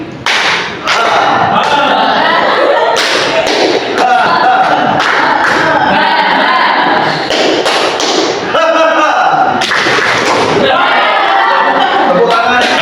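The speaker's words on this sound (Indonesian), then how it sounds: "Tepuk tangan." A classroom group claps hands together in a coordinated rhythm, loud bursts of sharp claps in quick patterns separated by short pauses, with voices calling out between the rounds.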